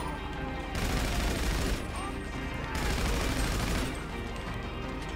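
Rapid bursts from a Gusenberg sweeper in GTA Online, loud dense automatic gunfire in two long volleys separated by short pauses, with constant game noise underneath.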